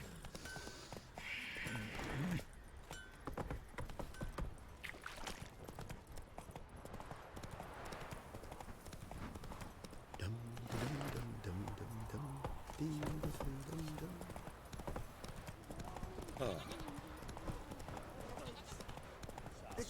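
Roach the horse galloping in The Witcher 3, a steady run of hoofbeat clip-clops throughout, with game character voices and ambient sounds mixed in.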